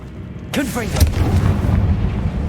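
A Confringo fire spell detonating in Hogwarts Legacy: a sharp booming blast, then a second burst about half a second later, trailing into a rumbling, crackling tail, with a voice heard over the impacts.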